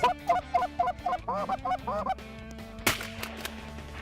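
A goose honks in a quick run of repeated calls, fairly close, then falls silent before a sharp gunshot and fading rustle, during a goose hunt.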